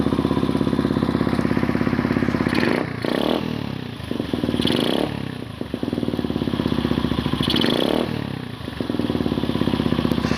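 A Yamaha TW 125cc motorcycle engine running close by with a steady single-cylinder putter, rising in brief revs and then settling back to a rough idle.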